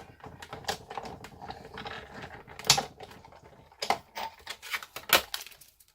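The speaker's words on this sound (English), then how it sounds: "So you're going to place that in your big shot. Crank it through." Paper cranked through a Big Shot die-cutting machine gives a run of quiet, close clicks and ratcheting ticks, irregular bursts of sharp taps at low volume with no speech.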